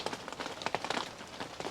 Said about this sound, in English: the rain's starting to kick in